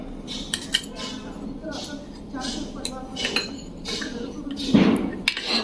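Two camphor tablets being crushed fine beside wheat-dough lamps for a Deep Amavasya puja, heard as scattered clinks and taps of metal on a plate, with a louder knock near the end and a faint voice talking in the background.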